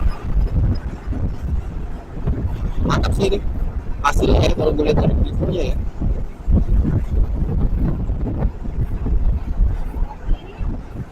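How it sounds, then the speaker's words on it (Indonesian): Motorcycle riding in daytime traffic, captured on a Brica B-PRO 5 action camera, comes through as continuous rumbling engine and wind noise, with someone talking over it. "Ini gue coba pakai naik motor"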